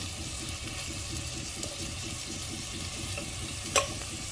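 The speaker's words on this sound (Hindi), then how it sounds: "इन्हें इस तरह से आगे पीछे पलट कर भूनते रहें तेल में, थोड़ी देर फ्राई करते रहें" Pieces of tinda and potato being stir-fried in oil, giving a steady close sizzle with rhythmic scraping of a spatula as they are turned back and forth, and one sharp clink near the end.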